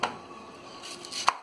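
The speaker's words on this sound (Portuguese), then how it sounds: "Vou picar outra aqui." An ingredient for hot dog toppings is chopped with a knife on a cutting board, giving a few soft close taps and one sharper knock near the end.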